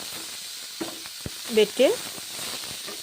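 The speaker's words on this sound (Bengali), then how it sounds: "এখন ভালো করেই 2 মিনিট ভেজে নিচ্ছি" Mustard, garlic and chili masala fries in a pan for a mourala fish curry, giving a steady soft sizzle. A few sharper crackles and stirring scrapes rise briefly above it, and a voice speaks in the pan's background.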